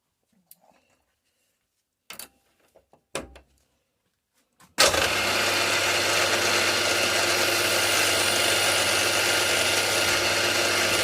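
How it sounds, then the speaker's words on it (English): A few faint clicks and knocks give way to a machine starting up and running with a steady, loud whirring drone while centre drilling a hole in a manifold steam turret for a live steam Britannia model. "So centre drill."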